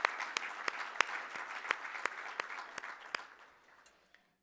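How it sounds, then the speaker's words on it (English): Audience at the 2016 CWC annual water convention applauding its sponsors, a thin scattering of distinct claps that stays fairly even and then tapers off and fades near the end, with no voices over it. "please join me in giving all of these sponsors a round of applause"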